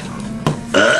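A single loud, close burp rolls out over about a second, starting with a low guttural croak and ending in a brighter, drawn-out tail, with no talking over it.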